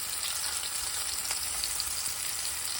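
Fish fillets frying in a pan until golden brown, giving a steady, close, even sizzle with faint crackles and no talk.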